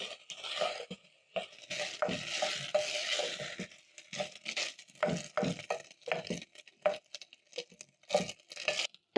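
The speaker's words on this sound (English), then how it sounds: "And then I'm going to toast together with the rice for around a minute." Rice and half a teaspoon of turmeric being stirred and toasted in a pot, with a steady run of soft scraping, rustling and light clicking strokes close up and no talking.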